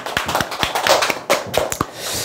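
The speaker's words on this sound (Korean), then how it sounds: "박수" Scattered hand claps from a small audience at a Korean telemarketing sales coaching seminar, roughly ten sharp, irregular claps close by, with no talking.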